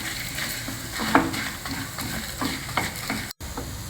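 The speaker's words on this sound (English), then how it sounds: "Roast that also along with the other spices till the dals are" Dals, methi seeds and spices roasting in a pan, a steady low sizzle with repeated stirring scrapes and a sharper clink partway through, close and moderately loud, with no talking.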